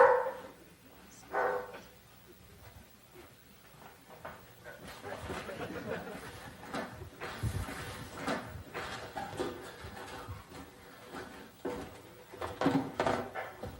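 A dog barks in a home in several scattered bursts, with brief yips and whimpers among rustling and movement, while people talk nearby.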